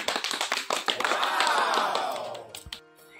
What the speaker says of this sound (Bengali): তাহলে সবাই হাততালি দাও।